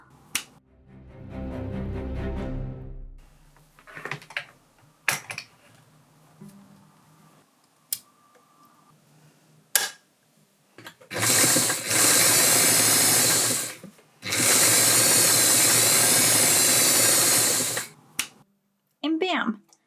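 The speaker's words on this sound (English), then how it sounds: "With the darts done, the next step is just to sew up the side seams." A sewing machine stitching the side seams of an 1880s Victorian-style skirt runs in two long, steady, loud bursts, with a short pause between them. Speech and handling noises come before the stitching.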